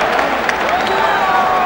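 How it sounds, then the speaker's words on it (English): A boxing arena crowd cheers and applauds for a fighter, with steady loud clapping and shouting throughout, dense and close, with a commentator's voice faintly mixed in. "Listen to the crowd here shouting for their hero."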